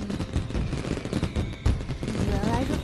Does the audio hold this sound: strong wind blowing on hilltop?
no